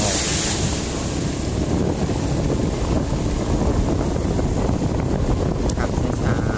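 Water flowing along a roadside near a forest temple in Sisaket, Thailand, a steady broadband rush mixed with wind buffeting the microphone, loud and continuous throughout with no talking.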